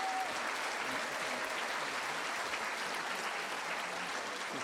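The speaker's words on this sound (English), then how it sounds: "And further round of applause for Lord Lieutenant Alex Scott" An audience at a school's 60th anniversary celebration applauds a lord lieutenant and a guest, a steady wash of many hands clapping that holds at an even level for the whole stretch, with no voices over it.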